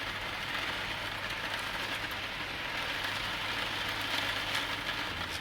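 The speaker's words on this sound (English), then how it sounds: "pouring rain outside." Heavy rain pours outside a van whose skylight is leaking, a dense unbroken hiss of drops on the roof that holds steady and fairly loud the whole time.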